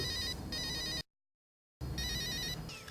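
A telephone rings twice with trilling electronic bursts separated by a short silence, fairly close and clear.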